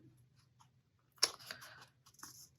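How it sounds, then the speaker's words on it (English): A few crisp scissor snips cutting paper at close range, one sharp cut followed by softer clicks in a quiet room. "I'm going to get my bigger scissors here."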